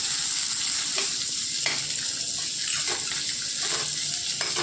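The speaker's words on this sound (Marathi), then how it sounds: "याच्यामध्ये उभा कापून घेतलेला कांदा टाकून घ्यायचा। कांदा पण आपल्याला थोडासा सोनेरी होईपर्यंत परतून घ्यायचा आहे।" Lengthwise-sliced onion frying in a pan for a Maharashtrian onion-potato curry, a continuous close sizzle with a few soft stirring scrapes, no talking.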